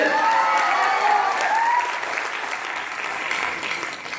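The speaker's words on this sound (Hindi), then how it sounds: "जोरदार तालियां देने के लिए" A crowd claps loudly and continuously, with a few voices mixed in, the applause slowly easing off.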